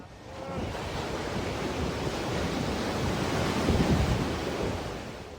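Steady sea surf and wind roll over open water where a tugboat sank, a dense, continuous roar that swells slightly and then eases, with no voices.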